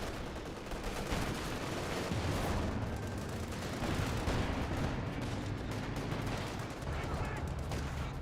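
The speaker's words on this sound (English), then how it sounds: "That appeared to have been a creeping barrage from the priest" Artillery creeping barrage in the Company of Heroes 2 game, heard as a dense, continuous roll of gunfire and blasts that stays loud and busy throughout with no pause.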